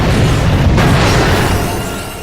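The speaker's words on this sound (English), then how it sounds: "It's the mega turret cannon now, and it just shoots more boomy rockets" Rockets from the Mini Rocket Tube in Ratchet and Clank: Going Commando blow up in a loud, close, rumbling boom that rolls on and slowly fades.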